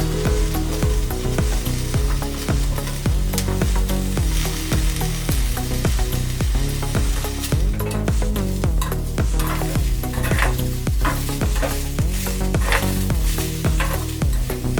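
Onion, ginger and garlic fry in a pan with a steady sizzle, while a spoon scrapes and stirs in a regular rhythm of repeated strokes. The sound is close and continuous, with no talking.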